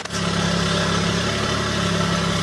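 A Mercedes 300TE engine with Megasquirt engine management idles steadily and close by, a constant, even mid-pitched hum after a brief start.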